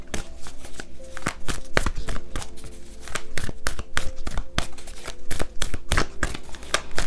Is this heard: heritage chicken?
no